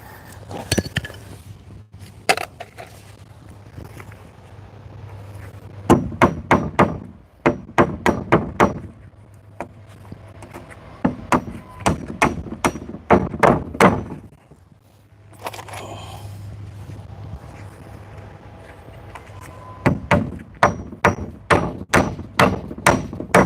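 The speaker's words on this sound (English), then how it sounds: "Take a break from hammering away over here." Hammer strikes on a bent nail while securing boards on a fence project, close and loud, arriving in quick rhythmic bursts of sharp metallic blows separated by short pauses and brief quieter stretches.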